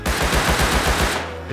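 Rapid automatic gunfire in the survival game Rust, a loud, steady burst of close shots that cuts off near the end, leaving a low hum.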